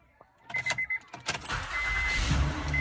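A 2012 Honda Ridgeline Sport is started after an alternator replacement: a few rapid starter cranks, then the engine catches and settles into a steady idle, close by.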